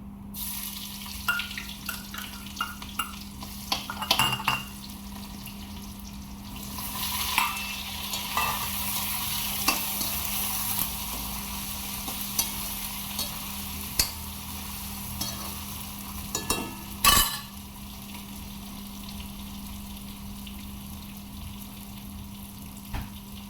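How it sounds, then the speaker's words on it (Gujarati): Tempering spices (vaghar) sizzle in hot oil for a spicy stuffed baby eggplant dish, a steady hiss with scattered clinks and stirring sounds and a louder burst near the end, with no talking. "જો ડુંગળીના મરચે મસાલો વધે તો આપણે પહેલાં વઘાર કરી દઈએ"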